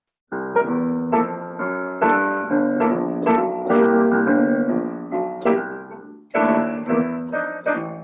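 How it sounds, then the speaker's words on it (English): Jazz piano accompaniment chords played in a loose rhythmic pattern over a steady low bass line, clear and close, with no talking. "And then I'm gonna add some piano accompaniment on top of it."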